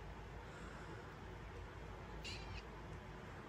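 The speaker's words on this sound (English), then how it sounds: "Don't mind my cat." A house cat gives a single short meow partway through, faint against a steady background hum, with no one talking.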